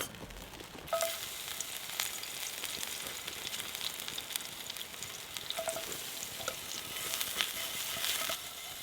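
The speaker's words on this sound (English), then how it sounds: "there's loads of heat there, which means we can cook the onions over here" Onions frying over campfire heat at a bushcraft camp, a steady broadband sizzle with scattered crackles and soft clicks running continuously at moderate level.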